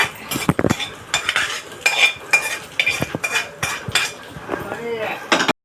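Cooked mixed vegetables of carrots, beans and tomato go into a pot in a home kitchen, with repeated clinking and scraping of a spoon against metal, irregular and close, while a voice talks briefly.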